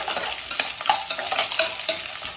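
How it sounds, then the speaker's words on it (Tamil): Cloves and cumin seeds frying in hot oil for pulao, a loud close continuous sizzle and crackle with stirring. "கிராம்பு, ஜீரகம் வச்சுருக்கேன், எல்லாம் போடலாம். எல்லாம் நல்லா எண்ணெயில் பொரியட்டும்."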